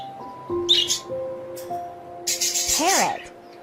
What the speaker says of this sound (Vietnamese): Con vẹt.